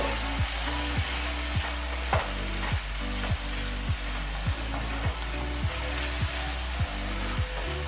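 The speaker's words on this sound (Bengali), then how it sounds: "আমি এখন ভালো করে নাড়াচাড়া করে মিশিয়ে দেবো" Beans and potatoes fry with salt and turmeric as a spatula stirs them in a pan, steady sizzling cut by regular scraping strokes about twice a second, close and even, with no talking.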